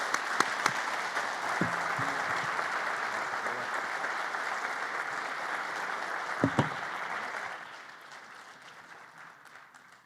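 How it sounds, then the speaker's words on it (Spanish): Sustained audience applause after a speaker at an economics and politics conference in Mendoza, a dense, even roar of clapping with a couple of louder knocks that fades away over the last couple of seconds. "Carlos Melconian, un aplauso."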